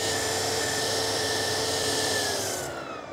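A water pump feeding a pressure tank runs steadily with a constant motor hum and whine, loud and close, then winds down and fades as it shuts off near the end.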